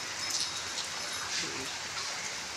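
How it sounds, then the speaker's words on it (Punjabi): Monsoon rain falls steadily outdoors near a puddled paddy field, a dense even hiss of drops that fills the scene with no pause, close and moderately loud. "ਮੀਂਹ ਆ ਗਿਆ ਬਰਸਾਤ ਦਾ ਮੌਸਮ"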